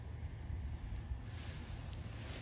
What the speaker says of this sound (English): my truck's running. You can probably hear that in the background.